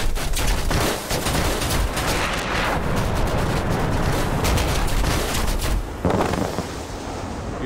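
A tank fight in a combat game brings a steady, dense barrage of gunfire and cannon blasts with constant rumbling, and a heavy boom near the end.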